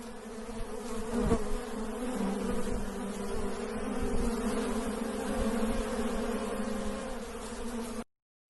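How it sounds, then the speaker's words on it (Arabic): Bees buzzing in a continuous, dense drone that stays steady and fairly close throughout, with no pauses, before cutting off abruptly. "نون نحل"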